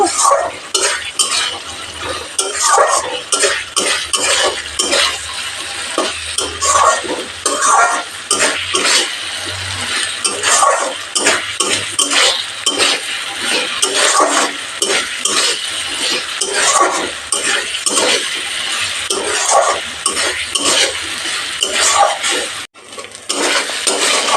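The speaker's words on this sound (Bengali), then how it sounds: "ভাজা আলু দিয়ে কিছুক্ষণ কষিয়ে নেব" Continuous sizzling and scraping as fried potatoes are stirred with spices in a pan for egg curry, with steady clinks of a utensil against metal, close and loud throughout.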